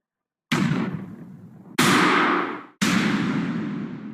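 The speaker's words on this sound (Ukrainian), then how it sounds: "я тут шукала звук пострілу" A gunshot sound effect from an editing app library: three sharp blasts, each a loud sudden crack followed by a decaying echo, spaced about a second apart with silence before the first.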